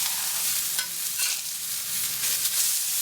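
A plant-based Impossible Burger patty sizzles in a hot pan with a continuous crackling hiss, broken by a few brief scraping clatters as it is turned, close and moderately loud, with no talking.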